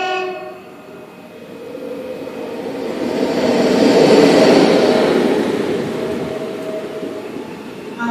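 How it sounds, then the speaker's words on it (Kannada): A train passes by with a broad rumbling roar that builds to a loud peak midway through, then slowly fades as the cars roll on. No voices are heard. "ನೋಡಿ ಆ ಟ್ರೈನಿಗೆ ಹೆಂಗ್ ಪಾಸ್ ಆಗುತ್ತೆ ನೋಡಿ"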